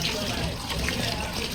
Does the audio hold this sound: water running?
yes